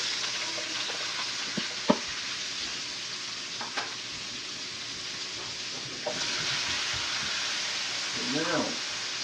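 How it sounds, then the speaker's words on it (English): Red bell peppers and garlic sauteing in avocado oil and butter, a soft continuous sizzle with occasional stirring clicks and scrapes, heard at moderate distance. "We're going to add a little bit more of the avocado oil, another pat of butter, and then we'll start sauteing the vegetables."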